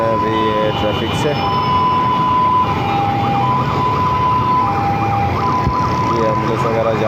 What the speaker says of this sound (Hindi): ये एम्बुलेंस वगैरह जा रही है।